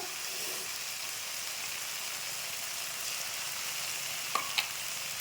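Ginger, garlic and onion paste frying in a pan on a gas stove, a soft continuous sizzle throughout with a couple of faint clicks near the end.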